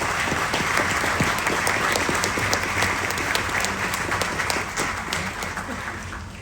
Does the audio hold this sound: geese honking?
no